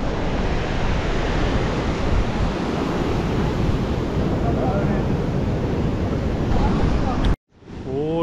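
Storm waves surge and wash over a Crimean beach in a steady, loud roar with wind rumble. The sound cuts out abruptly near the end, then a voice briefly begins speaking.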